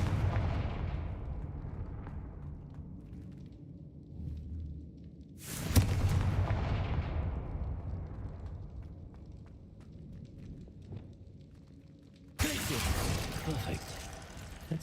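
Fiery Confringo spell blasts in the game Hogwarts Legacy, heard as two sudden booming explosions that each crack sharply and then rumble away, over a low, busy background.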